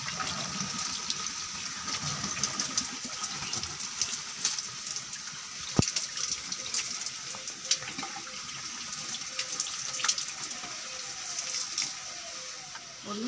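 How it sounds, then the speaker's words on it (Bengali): Water pours and splashes into potted plants during watering, a soft trickling and gushing with light clinks, fairly faint and close. "গাছের জল দিচ্ছি"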